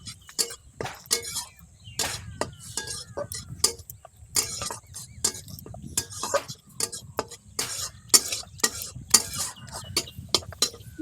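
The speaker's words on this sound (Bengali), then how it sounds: "হলুদ, মশলাটা ভালো করে কষিয়ে নেব যতক্ষণ না তেল ছাড়ছে।" Turmeric and spice masala stir-fried in oil, a spoon scraping and clinking against the pan in a steady run of sharp, close strokes over a soft low sizzle, with no one talking.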